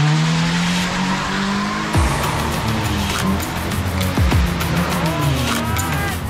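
Car performing a J-turn, an engine roaring steadily as the tires squeal and skid through the reversing spin, loud and close throughout.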